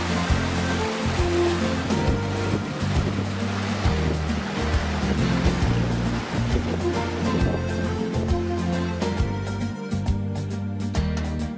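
Rushing water of the Leimbach brook pouring into the Rhine near the Kollerfähre ferry crossing, a steady, loud broadband roar of flowing current heard close by with no voices.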